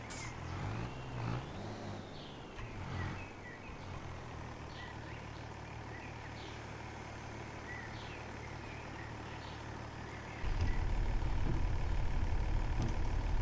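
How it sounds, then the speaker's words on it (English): Old Mercedes-Benz tractor engine in Farming Simulator 25 runs with a low, steady rumble, then surges louder and heavier near the end as the revs climb, with no voices. "Boy, it's a noisy old tractor"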